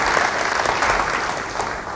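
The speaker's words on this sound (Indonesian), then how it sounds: "Yang mau beri tepuk tangan buat Tuhan" A church congregation gives loud, sustained applause for God during a sermon, a thick wash of clapping hands that stays steady from start to finish.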